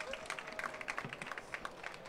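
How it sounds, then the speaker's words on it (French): Audience at a PwC tech and impact event at VivaTech 2025 in France applauds loudly, a dense stream of hand claps with scattered voices mixed into the crowd noise. "On applaudit très fort!"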